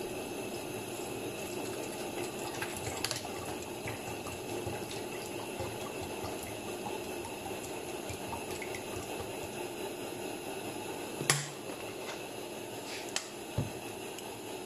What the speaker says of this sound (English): Going to put a litre of water in.